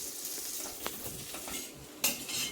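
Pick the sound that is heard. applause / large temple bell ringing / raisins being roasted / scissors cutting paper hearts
raisins being roasted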